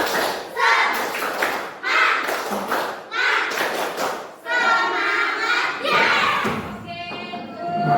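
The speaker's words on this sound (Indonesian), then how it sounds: "Tepuk semangat." A school class performs a rhythmic spirit clap, with bursts of group clapping and thumps in repeated phrases and children chanting together between and over the claps, loud and close in a classroom.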